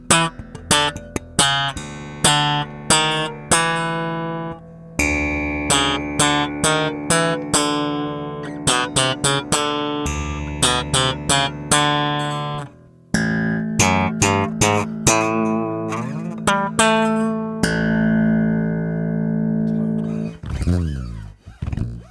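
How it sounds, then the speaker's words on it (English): An electric bass guitar with very low string action, played loud into an audio interface: a close, steady run of plucked notes and short phrases, with no voices over it. "your bass is overpowering your voice on my end anyway"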